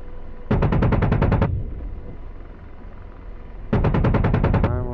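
Two long bursts of rapid automatic cannon fire from an AH-64D Apache helicopter in DCS World, each about a second, separated by a lull of rumbling background noise; loud and close.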